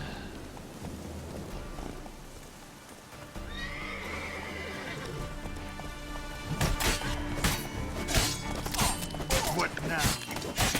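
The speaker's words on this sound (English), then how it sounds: "here's a guy on horseback" Horse hooves clatter and a horse whinnies during a bandit encounter in The Witcher 3: The Wild Hunt, with a high neigh midway and loud, busy clashing impacts and hoofbeats building in the second half.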